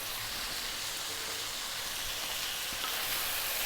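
Turmeric, cumin, coriander and chilli sizzling in a hot pan for a turnip curry, an even, close, bright frying hiss that runs unbroken and alone.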